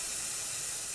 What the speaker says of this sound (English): In my case, I use this scan spray.